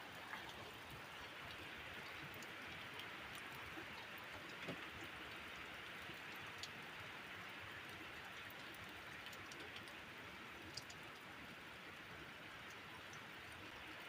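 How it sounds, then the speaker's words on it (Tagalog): Steady rain falls continuously in a village in Cavite, Philippines, a dense even hiss throughout with a few faint ticks of drops, no voices. "na-stranded ako kasi nga umuulan"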